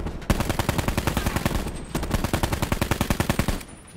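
Rapid automatic gunfire in the Call of Duty: Black Ops 4 video game, two sustained bursts of fast, evenly spaced shots with a brief pause between, loud and close, no talking.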